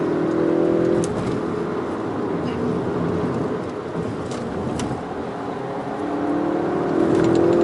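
A Toyota GR Yaris engine hums and whirs steadily as it drives past nearby, the tone swelling at the start and again near the end.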